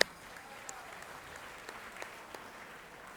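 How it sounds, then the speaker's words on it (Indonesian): Applause from a church congregation at a senior members' event, a soft steady patter of many hands with a few sharper claps standing out, fairly faint and somewhat distant throughout. "tepuk tangan untuk GKI Graha."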